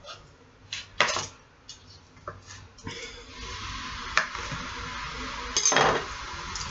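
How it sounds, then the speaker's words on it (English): Knife slicing a vegetable meat replacement on a kitchen board: light scattered knocks and scrapes, followed by a steady hiss with occasional clinks, all fairly soft and close, without talk. "so we're gonna slice it like you would a steak."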